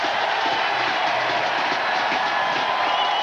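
A large crowd at a 1998 X Games BMX vert contest cheers continuously, a loud, dense roar that holds steady throughout.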